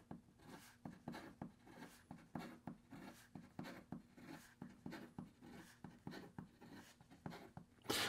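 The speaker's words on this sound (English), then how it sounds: "in regard to some fast writing" A Kaweco Liliput extra fine fountain pen scratching across paper in fast writing, a brisk run of short close strokes and faint nib scrapes with no talk.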